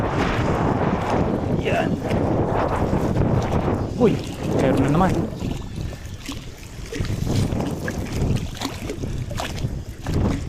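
Strong wind buffets the microphone aboard a small fishing boat at sea, with gusty rumbling and water noise, while people talk and exclaim over it.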